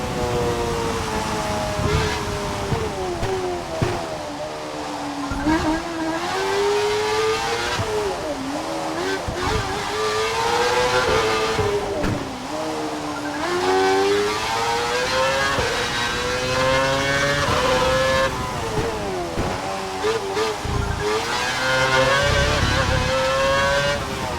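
Formula 1 car engine in the racing video game F1 2012, lapping a wet track: a continuous loud engine whine rising and falling through gear changes and corners, with steady road and spray noise underneath.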